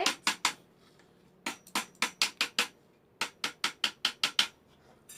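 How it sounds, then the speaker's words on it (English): Metal-on-part hammer taps while assembling a shoe rack, sharp evenly spaced strikes in three bursts of about five or six blows each, close and clear with no talking. "So I'm gonna hammer it."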